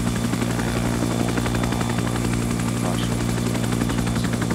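A Huey transport helicopter in Arma 3 gives a steady, loud rotor thump and engine drone that fills the whole stretch without pause.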